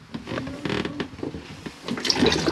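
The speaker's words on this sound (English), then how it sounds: "If you press it now, this is now your flush" Water rushes briefly through a motorhome cassette toilet during a flush, a close, gurgling burst lasting a couple of seconds and swelling toward the end.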